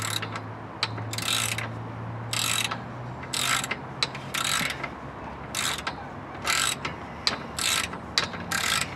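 A ratchet fitted with a 3/4 socket clicks in repeated bursts while backing off transmission cooler line nuts on a Ford Explorer, steady close ratcheting strokes separated by brief pauses, with a low hum underneath.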